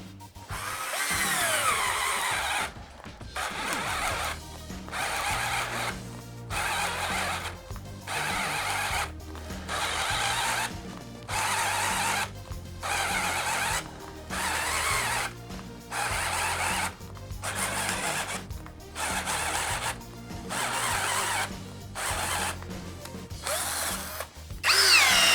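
Inexpensive cordless power drills, including a Black & Decker, run under test in repeated bursts of loud whirring, each lasting about a second, separated by short pauses.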